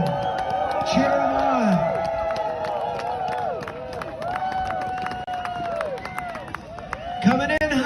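A crowd cheers and hollers along a parade route in Vail as 10th Mountain Division veterans pass in the Legacy Parade, a steady wash of voices and whoops with scattered claps, and a brief louder burst near the end.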